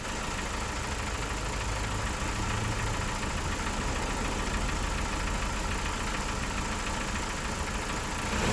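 An engine in a 2001 car, just after an oil change, idles steadily with a faint rapid ticking that could be valve chatter, a continuous, even drone heard alone with no change in level.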